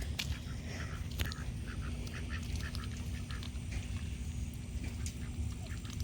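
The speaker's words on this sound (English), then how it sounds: "Look at those ducks playing in the mud puddles." Several ducks quack in short, scattered bursts over a steady low rumble of background noise, moderately close, with no clear talking.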